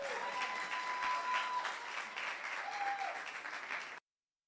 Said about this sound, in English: Yeah, you can keep clapping while they come up.